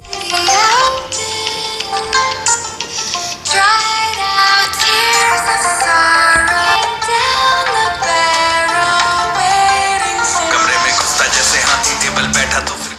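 Music plays continuously from an Infinix Hot 60 Pro+ smartphone's stereo speakers, bright and full, with a steady melody and no talking over it.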